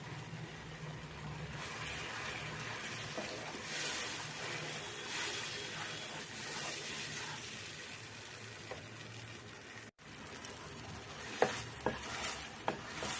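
Mashed banana being stirred into hot ghee in a pan for halwa, a soft continuous sizzle with scraping strokes, then a few faint clinks toward the end.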